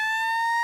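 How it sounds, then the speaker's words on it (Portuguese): A news siren sound effect plays on a Brazilian sports show as a short, loud, steady electronic tone, bright and buzzy, holding level for under a second with no talk. "tem sirene para a gente tocar aí"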